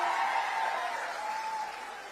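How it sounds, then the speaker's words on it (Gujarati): A crowd at a public rally in Gujarat claps in a dense burst of applause that gradually fades over two seconds. "અમને પણ એકવાર તાળીઓથી વધાવીશું."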